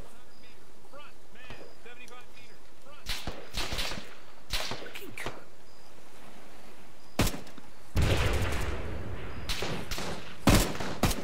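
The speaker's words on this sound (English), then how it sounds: "Still shots coming in from our right." Gunfire in the military shooter game Arma 3, heard as scattered sharp cracks and short bursts, some distant and some close, with the loudest clusters toward the end and quiet stretches between.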